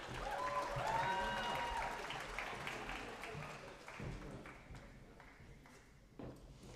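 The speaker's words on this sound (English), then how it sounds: "If we could have one more round of applause for these amazing humans." Applause from an audience at a school senior awards celebration, starting fairly full and gradually thinning and fading, with some tonal ringing and scattered voices in the room early on.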